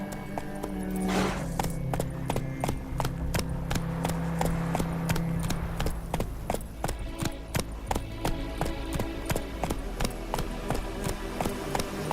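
A horse gallops in The Witcher 3, its hooves striking in a quick, steady clip-clop rhythm throughout, fairly faint, with a brief whinny-like call near the start over a low ambient backdrop.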